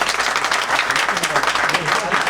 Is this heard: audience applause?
yes